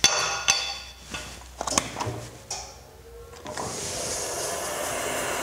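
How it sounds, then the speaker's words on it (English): A wood lathe spinning up for skew chisel turning, with a few sharp knocks and clunks at first, then a steady whirring hum building and holding quietly. "We start up the lathe."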